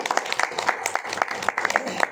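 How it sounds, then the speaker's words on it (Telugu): A small audience claps, giving a light, scattered patter of hand claps that lasts a couple of seconds at moderate loudness. "ఒకసారి చప్పట్లు కొడవచ్చు."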